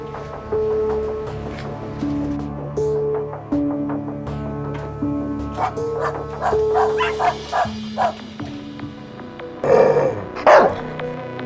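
A dog barks and growls in short bursts that grow louder toward the end, over steady music.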